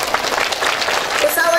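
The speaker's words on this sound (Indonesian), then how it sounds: "tepuk tangan dulu." An audience at a religious talk in Kundur, Karimun, Riau Islands breaks into brief applause, a dense, steady patter of clapping heard together with voices in the room.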